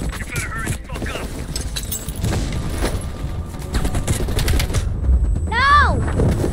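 Gunfire in the video game Call of Duty Black Ops crackles in rapid bursts and scattered shots amid game noise, fairly loud and near, with voices talking over parts of it.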